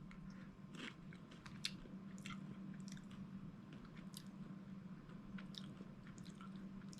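Edible crickets are chewed close to the microphone, giving a run of small crunching and squishing bites over a low steady background hum.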